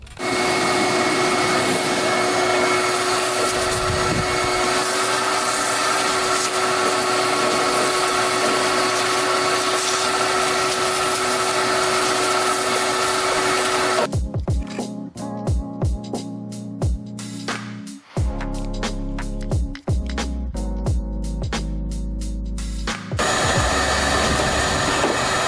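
A vacuum cleaner runs loudly and steadily while cleaning off a Murray lawn tractor left sitting for over ten years, its drone interrupted by a stretch of clunks, scrapes and rubbing as the nozzle works over the machine.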